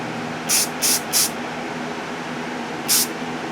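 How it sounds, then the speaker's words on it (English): Short hissing bursts of black rattle-can spray paint coating a back panel mounted on a copper rod: three quick sprays in a row, a pause, then one more, close by over a faint steady hum. "I'm just using a very standard rattle can black for its base coat"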